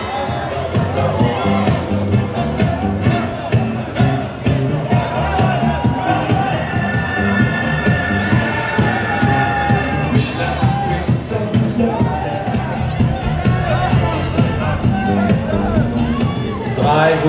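A large crowd screams and cheers at the Cannes Film Festival red carpet for Ryan Gosling and Russell Crowe, loud and continuous, with a voice talking over the din throughout.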